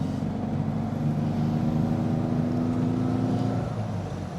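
A 1963 Porsche 356C Sunroof Coupe's engine drones steadily on a farm road, its tone rising and stepping as it runs up through the gears, loud and close from inside the cabin.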